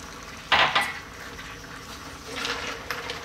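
A utensil scrapes and clinks against a pan as creamy clams with fresh milk and pechay are stirred: a sharp clatter early on, then softer stirring and scraping.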